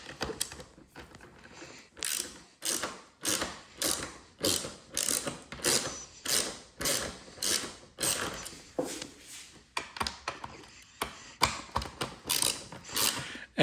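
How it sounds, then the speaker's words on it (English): An 8mm socket ratchet loosens the air filter cover fasteners and clamp on a Jeep Wrangler JL, giving close, crisp bursts of ratcheting clicks in a steady repeating rhythm with brief pauses between strokes. "we're just going to use an 8mm socket and one here on the clamp, which is also 8mm"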